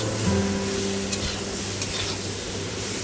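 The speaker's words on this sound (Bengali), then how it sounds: "ভালো করে মিশিয়ে নিচ্ছি।" Pumpkin and potato pieces with salt are stirred in a pan for pumpkin ghonto with Malabar spinach, a low steady sizzle with soft occasional scrapes, close and even throughout.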